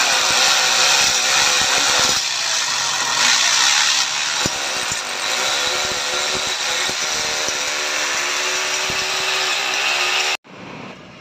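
A power drill whines loudly and continuously while boring holes for a window grill, its pitch wavering with load before cutting off abruptly near the end.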